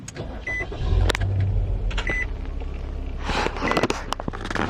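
A car engine runs after its mass airflow sensor was cleaned and the air filter changed, with the check engine light still on. A low, steady idle rumble sounds close by, with scattered clicks and sharp knocks over it.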